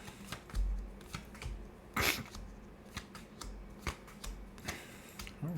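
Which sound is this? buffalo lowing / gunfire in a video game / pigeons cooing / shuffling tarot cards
shuffling tarot cards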